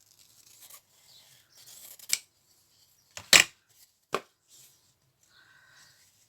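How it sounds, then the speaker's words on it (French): Scissors snip through a small piece of fabric in a handmade junk-style traveler's notebook, giving a few short, close cuts with a sharp louder snip in the middle and quiet handling between. "Donc lui, on vient le couper ici à peu près."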